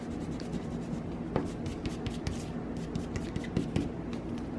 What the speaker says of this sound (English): I'm gonna go ahead and erase that because I know generally where it's gonna fall.